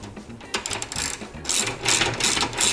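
A ratchet with a 5/8 socket tightens a Nylock nut with a big washer on a Mini rear subframe, giving close, rapid bursts of clicking in uneven runs.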